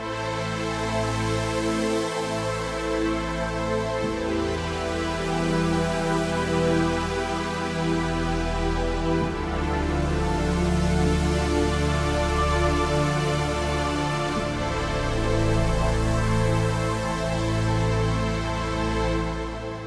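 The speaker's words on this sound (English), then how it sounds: "By layering these two pads together, you can get a really huge sounding pad" Two synth pads layered into one huge, dense pad chord, a wide, sustained wash of sound that swells and shifts slowly without breaks, played alone.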